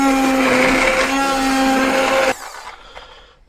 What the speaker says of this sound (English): I've got my little stick blender,